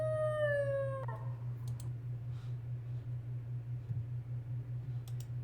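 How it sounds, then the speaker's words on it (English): A dog howls from a played video, a long rising-and-falling tone lasting about a second, then fading into quiet room noise with a steady low hum and a few faint clicks. "Okay, that sounds like a regular dog."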